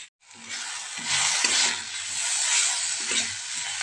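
Fish fries in a pan for a Bengali fish curry with coriander, a steady close sizzle and hiss that starts abruptly and continues without a pause, with faint stirring knocks underneath.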